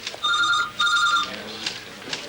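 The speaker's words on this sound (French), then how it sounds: "mademoiselle Cantrell, on vous demande au téléphone" A telephone rings in two bright electronic bursts, close and clear, followed by softer rustling and room noise.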